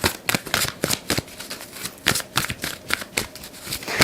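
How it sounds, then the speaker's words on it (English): Tarot cards being shuffled, a steady run of crisp riffling and slapping bursts close up, continuing alone with no talk. "Let's pull a few cards."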